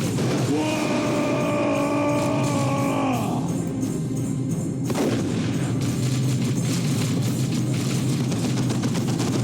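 Tactical Marines fire in the strategy game Dawn of War 2, a dense roar of rapid gunfire and explosions with a sustained rumbling battle bed and a tonal whine fading out early, loud and continuous throughout.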